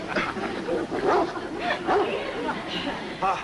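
Several dogs bark and yip in a 1950s sitcom scene, short repeated barks and whimpers mixed with people talking over them.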